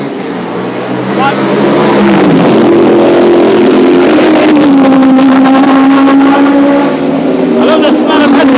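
Loud racing cars roar past at Mondello Park race track, their engines revving and pitch shifting as they pass, with a voice talking over the steady din.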